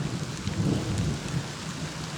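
Steady rain falling on a farmstead in Panchagarh, Bangladesh, a dense, even hiss with a low rumble underneath, no voices.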